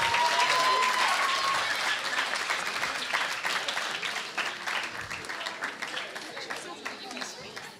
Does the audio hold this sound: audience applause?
yes